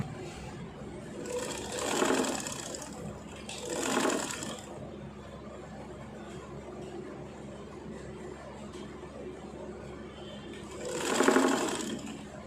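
Sewing machine stitching a bra belt, with three separate bursts of rapid mechanical whirring and needle chatter at close range, divided by quiet pauses.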